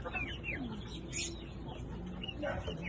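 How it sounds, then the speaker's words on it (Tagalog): Birds chirp and cluck in short bursts over a steady ambient background, with a few brief whistled notes rising above the noise. "So napakagandang ibon."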